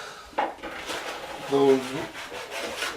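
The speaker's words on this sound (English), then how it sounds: "You want to get some glue on, and make sure you're using your notch trowel." A notched trowel scrapes tile glue across a floor during a VCT tile installation, giving close, rough rasping strokes that repeat over a few seconds, with a brief voice mixed in.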